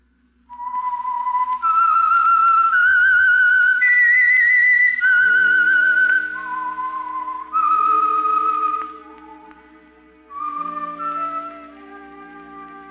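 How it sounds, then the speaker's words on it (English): A melodic whistled tune, clear and prominent, stepping through several held notes over a faint low backing tone, the theme of the old-time radio mystery program The Whistler. "That whistle is your signal for the Signal Oil program"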